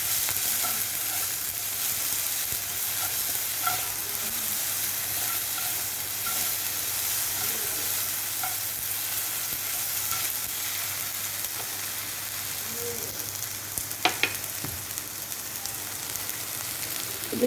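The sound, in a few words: stirring onion, garlic and tomato paste frying in pan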